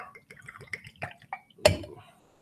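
Alkkemist gin glugs from a bottle into a shot glass in a rapid series of close, bubbly drips, ending with a brighter clink of glass.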